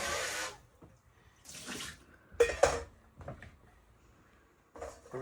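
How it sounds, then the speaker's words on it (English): Quail eggs rinsed under a cold kitchen tap, with short bursts of running water, clinks of a bowl or dish and quiet handling sounds in between, close and fairly soft. "All right, rinse this out. Probably cold water would be best."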